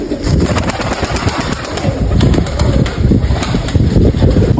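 Loud, close pigeon noise from a loft of Mykolaiv breed pigeons, with rapid fluttering wingbeats and clattering in dense bursts over throaty cooing.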